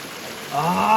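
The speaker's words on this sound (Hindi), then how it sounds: "और पानी का ये देखिए, चश्मे का पानी" Mountain spring water near the hidden lakes of Chilas flows in a steady, close rushing wash that grows louder and fuller in the second half of the brief moment.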